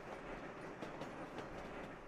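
Passenger train from the game Sweet Transit rolls along in a steady mechanical rumble with soft rhythmic clickety-clack from its wheels, fairly quiet and continuous, with no voices.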